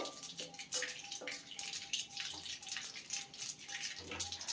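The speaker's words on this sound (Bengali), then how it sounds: "ফোড়নটাকে এখন একটু ভেজে নিতে হবে" Dry red chilli, panch phoron and black mustard seeds frying in hot oil while a raw mango dish is being cooked, giving a steady, close, hissing sizzle with dense crackles and small pops throughout, and no talking.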